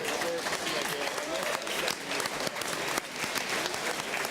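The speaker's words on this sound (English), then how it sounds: "Give them a big, big applause." Loud, continuous audience applause at a live Q&A session, dense clapping from a large crowd filling the room steadily throughout with a few slight dips.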